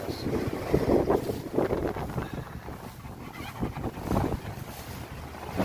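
Stormy Atlantic waves and strong wind buffet a boat at night, with heavy wind rumble against the microphone and surging water rising and falling in slow swells.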